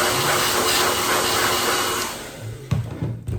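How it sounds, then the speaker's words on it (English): An air dryer blows a loud, steady rushing stream of air to dry a straight razor after honing on a stone, then cuts off, followed by a few clunks and handling noises. "Get the air dryer, dry it off."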